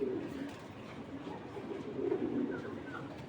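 Pigeons coo in a low, steady murmur throughout, at a breeder's farm stocked with racing pigeons; several birds overlap in a continuous soft rumble with a few brighter calls near the end.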